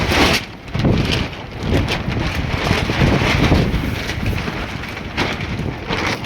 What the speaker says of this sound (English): the wind has moved up